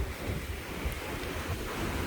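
Sea waves surge over Mipo harbor in Busan during Typhoon Hinnamnor, a steady loud roar of crashing surf and spray mixed with heavy wind buffeting the microphone.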